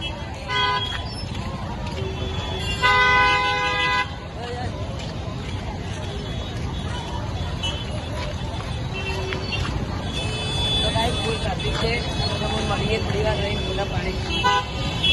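Busy traffic at a crowded village fair, with repeated car horn toots over engine rumble and crowd babble, a voice talking nearby.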